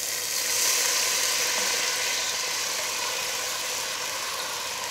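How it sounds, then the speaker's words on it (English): Red wine hits a hot pan of softened chopped garlic and chilli, giving a steady, even sizzling hiss that holds at a constant level throughout. "So now we're going to deglaze our pan with our red wine."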